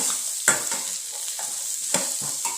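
Beetroot frying in a spiced oil tempering for a curry, a soft sizzle broken by a few sharp stirring scrapes and spoon knocks against the pan.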